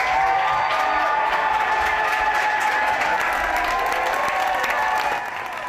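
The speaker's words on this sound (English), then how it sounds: "A roaring applause Tuesday as Chris d'Entremont entered a Liberal caucus meeting with Prime Minister Mark Carney" Roaring applause from politicians at a Liberal caucus meeting as an MP enters alongside the Prime Minister, a loud sustained wall of clapping with scattered cheers and whoops, easing slightly at the end.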